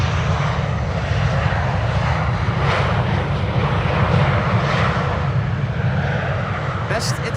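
A German Airways airliner at Amsterdam Schiphol Airport makes a loud, continuous engine roar that swells slightly and then eases, with a voice talking over it.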